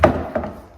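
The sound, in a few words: wooden piece being flipped over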